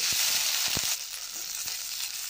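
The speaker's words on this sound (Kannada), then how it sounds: "ಕೊತ್ತಂಬರಿ ಪುದೀನ, ಹಾಗೆ ಈ ಜೀರಿಗೆ ಮತ್ತು ಸೋಂಪನ್ನು ಹಾಕಿ ಫಸ್ಟ್ ಫ್ರೈ ಮಾಡ್ಕೊಳ್ಳೋಣ." Tomato, onion, coriander, mint, cumin and fennel fry in a pan with a loud, bright, continuous sizzle. A few quick knocks from stirring come early on; nearby, no voices.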